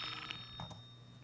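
A telephone rings with an incoming call during a live high school sports call-in radio show, a short ring with steady tonal pulses over a faint background hum.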